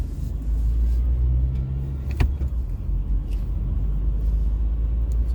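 A car drives steadily in second gear at low speed late at night, its engine giving a continuous low rumble with a brief sharp knock midway and no talk over it.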